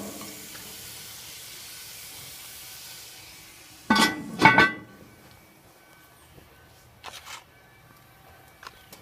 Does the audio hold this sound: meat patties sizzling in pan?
yes